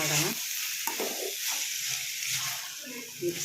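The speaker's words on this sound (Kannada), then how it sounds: "ಬೀಟ್ರೋಟ್ ಹಾಕ್ಕೊಂಡು ಫ್ರೈ ಮಾಡ್ಕೊಳ್ಳೋಣ." Beetroot frying in a pan gives a steady, loud sizzling hiss close by, while a person talks quietly underneath.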